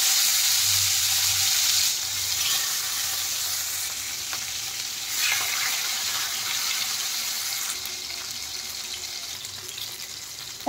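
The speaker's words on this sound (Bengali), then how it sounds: "দেখেন, তেল ভালোভাবে গরম হয়ে গেছে, এখন আমি মাছগুলো ভেজে নেব।" Pieces of shol fish fry in hot mustard oil in a pan, giving a steady, loud, close sizzle that continues unbroken, with faint surges as the oil crackles and no speech.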